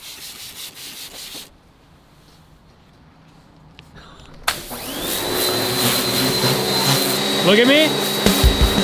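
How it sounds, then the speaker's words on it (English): A car engine bay is scrubbed with Scotch-Brite and degreaser during a Veilside RX-7 build, giving steady close rubbing and scouring noise that grows louder and continuous, with a voice speaking briefly at the start. "we decided to attack it with Scotch-Brite and degreaser to really remove all the debris and leftover paint"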